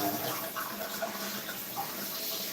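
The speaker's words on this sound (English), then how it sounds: "rinse off the rest of the stove." Water runs steadily from a tap while a stove is rinsed off, a continuous hissing splash with faint shifting gurgles and no voices.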